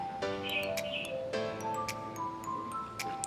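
Caged native birds, including mynas, starlings and parakeets, at a wildlife collection in Dhaka make repeated bright chirps, whistles and tweets that overlap one another, close and clear.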